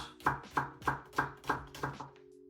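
A knife chops shallots on a board in seven quick, evenly spaced close thuds, then the chopping stops.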